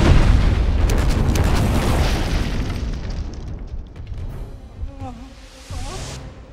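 Volcano eruption effects for the disaster film 2012: a loud, sustained rumbling boom with layered blasts that fades toward the end, with a few brief voice-like tones near the close.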